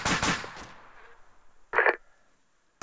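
Gunfire in the video game Foxhole: a rapid rattling burst at the start that fades out, then a single sharp shot or short burst after a quiet gap.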